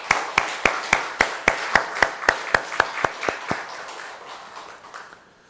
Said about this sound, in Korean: 부활하신 주님 앞에 큰 박수로 영광.